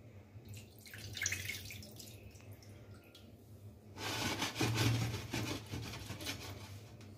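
Seafood sofrito broth in a pot for fideuà starts to heat, with quiet drips and simmering at first, then a louder, fuller bubbling that rises about halfway through as it comes toward a boil.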